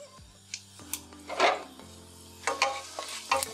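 Cumin seeds fry in a tablespoon of soybean oil in a pan, with a light sizzle broken by scraping stirs and metal clinks of a utensil against the pan.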